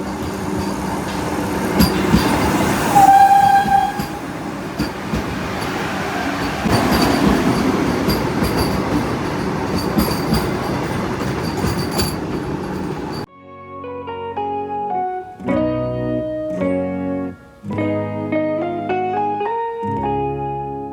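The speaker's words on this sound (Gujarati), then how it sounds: "ત્યાં છે ને વંદે ભારત ટ્રેન આવે ને એને ક્રોસિંગ છે" A Vande Bharat express train rumbles and clatters through Jetalsar railway station for about thirteen seconds, loud and close, then gives way to tonal music.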